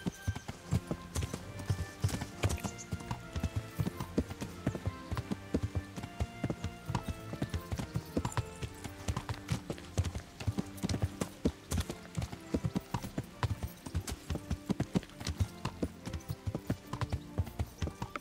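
Horse hooves clip-clop steadily and close while riding in the medieval game Kingdom Come: Deliverance, a continuous rhythmic trot of loud hoofbeats throughout, with no talk over them.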